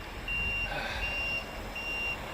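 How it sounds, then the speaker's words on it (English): A truck backing up emits regular high-pitched reversing beeps, repeating evenly at moderate distance over a low engine rumble in a quiet outdoor residential setting. "You hear that glorious truck revving."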